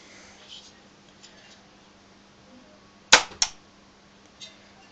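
A homemade rotary coilgun sentry fires one shot: a sharp, loud crack and a quick second snap right after it, close by, over a low steady hum.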